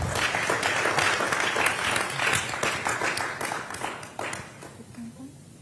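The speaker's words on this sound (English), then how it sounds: "Ladies and gentlemen, a round of applause for her." Audience applause at a public leadership centre launch event, a full burst of clapping that swells and gradually thins out, with some voices faintly audible beneath as it fades.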